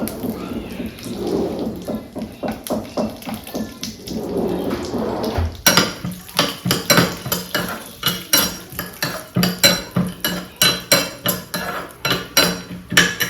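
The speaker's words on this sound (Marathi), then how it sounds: "तूप तापलेलं आहे काजू बदाम रोस्ट करून घेते थोडेसे" Cashews and almonds roast in hot ghee in a pan, giving a dense, steady sizzling crackle that swells into sharper, louder popping bursts about halfway through, with no voices.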